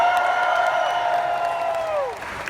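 Fans at a Star Wars Celebration convention cheer for Boba Fett, a loud sustained whoop riding over a wash of crowd noise before sliding down and fading at the end.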